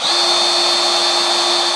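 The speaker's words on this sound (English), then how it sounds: "Just trying to keep the drill on the top of this rivet." A power drill grinds steadily into the head of a rivet during a Catamount Fury conversion, a loud continuous high whine with a sustained tone, close and uninterrupted throughout.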